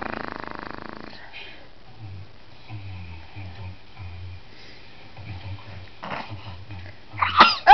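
A sneeze bursts out sharply at the very end, loud and close, after quiet snuffling and breathing sounds indoors.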